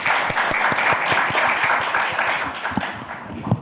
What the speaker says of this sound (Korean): 남인순 의원님 큰 박수로 모셔보도록 하겠습니다